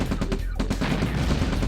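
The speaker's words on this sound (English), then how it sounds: "Someone's firing." Gunfire in the strategy game Command & Conquer: Red Alert, a fast rattling burst of machine-gun shots followed by steady battle noise, fairly loud with no voices.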